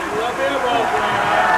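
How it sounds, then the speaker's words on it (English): A high school basketball crowd at MHS vs Weymouth chants "air ball" in unison after a short shot, a steady, dense mass of many voices filling the gym for the whole stretch. "The universal chant of air ball."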